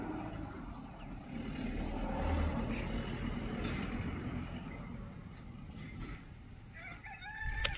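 A rooster crows somewhere along the Narmada pilgrimage route in rural India, a distant call heard near the end over a steady outdoor rumble of wind and traffic.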